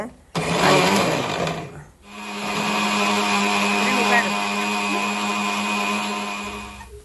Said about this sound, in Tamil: இனிமேல் நாங்கள் இதை மிக்சியிலே அடிக்கலாம் கப்புக்க போட்டு அடிப்போம்